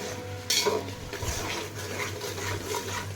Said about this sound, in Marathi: आता ही ही टोमॅटोची पेस्ट चांगले मिक्स करून घ्यायचं ह्याच्यात